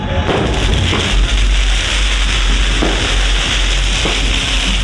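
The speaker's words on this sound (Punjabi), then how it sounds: "ਨਗਰ ਕੀਰਤਨ ਦੀ ਸਮਾਪਤੀ ਦੇ ਮੌਕੇ ਆਤਿਸ਼ਬਾਜ਼ੀ ਕੀਤੀ ਜਾ ਰਹੀ ਆ" Scattered booming bursts of fireworks ring out over a loud, constant wash of outdoor crowd noise, at the close of a Sikh Nagar Kirtan procession for Gurpurab at a gurdwara in Pilibhit.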